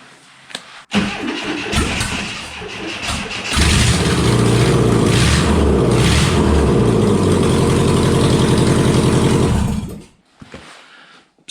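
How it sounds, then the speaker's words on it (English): A VW T3 van engine with no exhaust fitted cranks and catches, then runs loud and raw with a harsh, unmuffled rattling idle before cutting off abruptly. "what a T3 would sound like with absolutely no exhaust at all"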